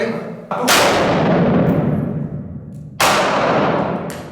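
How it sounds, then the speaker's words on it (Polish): Two sharp, loud pistol shots a few seconds apart at a shooting practice, each a hard crack followed by a booming echo that slowly fades. "Czyli wybierz szybciej luz i oddaj strzał"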